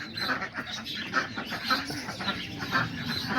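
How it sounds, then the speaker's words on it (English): Pigeons coo and murmur steadily in a loft on a rainy day, several birds close by with soft rustling. "I was just looking at the pigeons"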